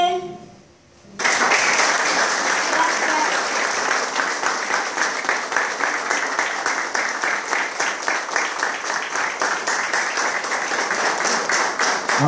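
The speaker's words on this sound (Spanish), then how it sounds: "Aplausos, exactamente." An audience at an international seminar on the Guarani language bursts into sustained applause after a short quiet moment, dense overlapping clapping that carries on evenly for over ten seconds.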